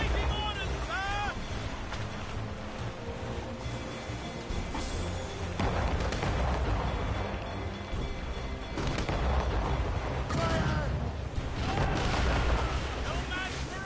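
Ship cannons firing broadsides during a naval battle in the video game Assassin's Creed Rogue, heavy booming blasts over rushing wind and sea noise, with crew voices shouting and calling out between shots.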